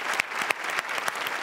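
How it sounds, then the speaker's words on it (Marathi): Audience applause at a live comedy show, a dense steady clapping that carries evenly through the moment with a few sharper claps standing out, close and moderately loud, with no talking over it. "जोरदार टाळ्या."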